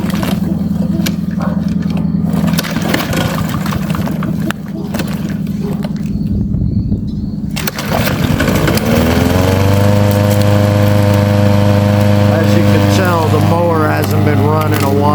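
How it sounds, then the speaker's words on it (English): A lawn mower engine that hasn't been run in a while sputters and rumbles, then catches and settles into a loud, steady droning run close by. "I'm going to have my safety start the mower"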